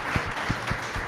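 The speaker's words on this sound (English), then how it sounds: "let's have a big round of applause for Kat and Dominic" An audience claps for speakers at a live tech event, a brief, dense wash of applause heard from nearby.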